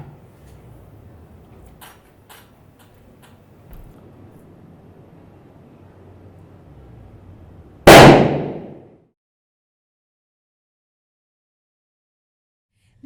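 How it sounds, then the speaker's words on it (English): A small model rocket is lit and launched: faint crackling and scattered ticks, then a sudden loud whooshing burst that fades away over about a second, followed by silence. "our next step is to light the top of this rocket, and remember, this could be loud"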